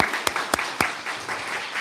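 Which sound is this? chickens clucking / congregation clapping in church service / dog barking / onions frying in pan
congregation clapping in church service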